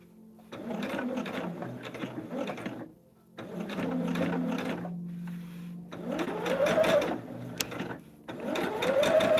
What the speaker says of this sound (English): We're just sewing in between the solid and the dotted lines. Just tacking that foundation down to the fabric.